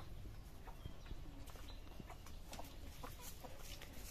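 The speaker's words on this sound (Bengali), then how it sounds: "খাবার দিছে মুরগিকে খাইতে।" Hens and roosters feeding in a coop give soft, faint clucks scattered over a steady background hiss, with a few light pecking taps.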